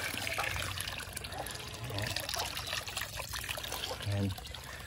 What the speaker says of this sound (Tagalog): Lagyan tayo ng tubig dyan.